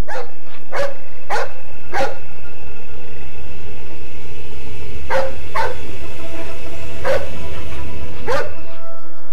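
A hunting dog barks about eight times in two loose clusters with a pause between, over a steady low rumble in the background.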